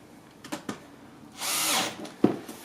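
A power driver briefly whirs to tighten bolts on a composter tumbler during assembly, a short close buzz after a few faint clicks and knocks, followed by a sharp clunk.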